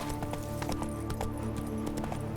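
Roach the horse from The Witcher 3 gallops in steady clip-clop hoofbeats, close and loud, layered over a continuous game soundtrack drone with a brief whinny-like hint.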